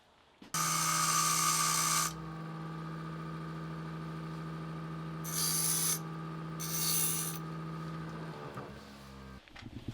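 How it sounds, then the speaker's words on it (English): Bench grinder cleaning up a cut metal part for a Polaroid Land camera 120 film conversion, a steady close motor hum with brief louder grinding bursts as the piece touches the wheel. "Now I'm going to take it back to the bench grinder and clean everything up so it looks a little less haggard."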